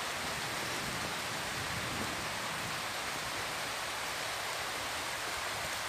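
Rain falls over open Mixteca countryside in Oaxaca as a steady, even hiss that holds at the same level throughout, with no voices.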